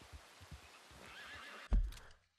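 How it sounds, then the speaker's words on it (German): Horse in the video game Red Dead Redemption 2 gives a whinny over soft hoof clip-clops, closing with a sharp loud snort-like burst before falling quiet; fairly near and alone without talk. "Wo ist mein Pferd?"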